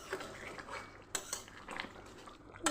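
Spiced egg biryani stirred in a pot with a utensil: quiet, scattered clinks and scrapes of metal against the pot, a few sharper knocks standing out.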